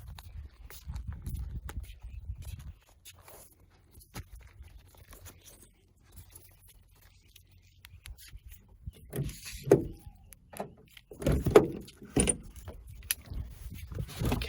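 Car keys jingle and clink in short clustered bursts during a search near a car, quiet at first then busier and louder toward the end, with light handling noises between.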